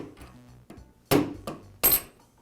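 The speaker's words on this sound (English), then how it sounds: "use a rubber mallet to tap the armature free from the bearing" A rubber mallet taps a sander's armature free from its bearing while held in a vise: two sharp, close knocks, each with a short ringing decay, after a few softer handling sounds.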